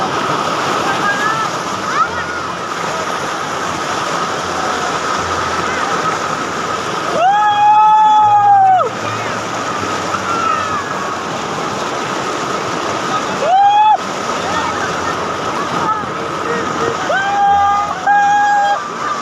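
The Sangrampunji waterfall in Sylhet roars as a constant loud, broadband wash of falling water, with a few short whistle-like tones cutting through at intervals; no speech is heard.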